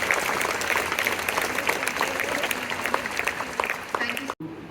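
A school event audience gives a big round of applause: dense, steady clapping from a crowd that fills about four seconds under a speaking voice, then cuts off abruptly.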